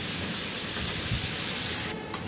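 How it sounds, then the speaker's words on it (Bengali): Prawns fry in a pan while their released water cooks off, a loud, continuous sizzling hiss close by that cuts out abruptly near the end. "সেই জন্য জলগুলোকে একটু টেনে নিয়ে হালকা করে ভেজে নেব"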